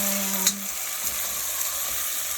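Steady, crackling sizzle of cow skin frying in hot oil in a pot, close and continuous, with a faint clink near the start.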